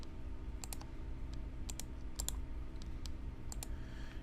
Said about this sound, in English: Right mouse click, add data labels.